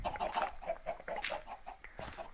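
Chickens cluck in the Minecraft video game on a chicken-laying farm build, a quick run of short, repeated clucks at moderate volume, alone without talk.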